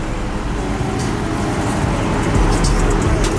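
A car pulls up and parks out front, its engine a steady close rumble with broadband road noise and a slight swell near the end.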